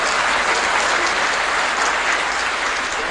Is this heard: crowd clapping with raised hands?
yes